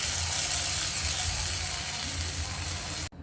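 Raisins fried in hot ghee sizzle as they are tempered into semiya payasam, giving a steady, close hiss that stops abruptly at the end.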